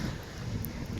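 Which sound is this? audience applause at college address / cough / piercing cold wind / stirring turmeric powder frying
piercing cold wind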